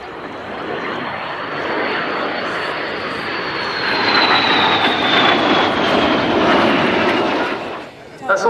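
Two de Havilland Vampire jets with Goblin engines fly past at an air show in Dunsfold, a loud roar swelling and sweeping with a falling whine before fading, while people talk over it.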